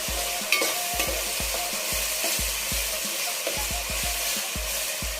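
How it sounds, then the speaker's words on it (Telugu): Ginger garlic paste fries in a pan for a korameenu fish curry, a bright constant sizzle broken by a steady rhythm of close scraping stirs, about two strokes per second. "బాగా అల్లం వెల్లుల్లి పేస్ట్ కూడా బాగా వేగాలండి."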